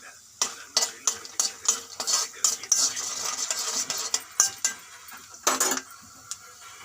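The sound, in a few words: peanuts and curry leaves frying in oil, being stirred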